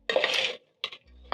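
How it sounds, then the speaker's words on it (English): Peanuts roasting in a pan on a stovetop are stirred, making a dry scraping rattle in one long burst, then a shorter clatter and a soft scrape after a brief pause. "I'm going to check on my peanuts one more time, and you can hear the crispiness of the peanut skin."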